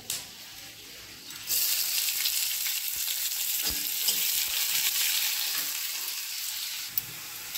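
Chopped onion dropped into hot oil with tej patta and dried chili, bursting into a loud, steady sizzle after a quiet start, with a couple of brief stirring knocks.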